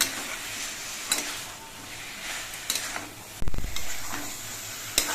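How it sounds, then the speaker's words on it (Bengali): Cooked banana flower being stirred with cumin paste in a pan, soft sizzling with intermittent spatula scrapes and clatters, one sharper knock midway, close and fairly quiet. "মোচাগুলো রান্না করে নিয়েছি এবার এর মধ্যে আমি জিরে বাটার দিচ্ছি জিরে বাটা দিয়ে নেড়ে চেড়ে মিশিয়ে নিচ্ছি"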